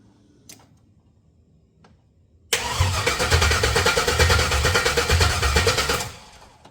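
LS-swapped 1985 Oldsmobile Cutlass Supreme engine cranks and fires up with a sudden loud catch, then idles roughly and steadily for a few seconds before dropping off; a few faint clicks come first.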